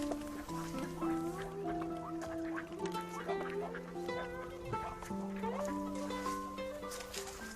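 Poultry-like birds cluck and chatter steadily while being fed in a scene from a TV drama series, a dense layered stream of short calls at moderate distance with faint speech mixed in.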